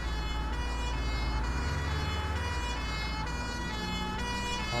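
A wailing emergency siren in the bus simulator OMSI 2, London route near Marble Arch, with a steady harmonic tone over a low engine rumble, sustained and fairly loud, with no speech.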